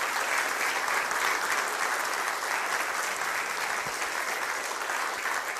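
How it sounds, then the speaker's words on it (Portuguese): Sustained applause from a church congregation fills the room, steady and dense throughout with no talking over it. "Uma salva de palmas para essa gente boa de Deus."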